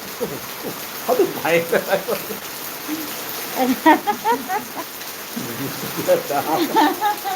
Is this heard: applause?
no